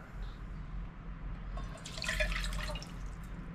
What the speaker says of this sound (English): You add water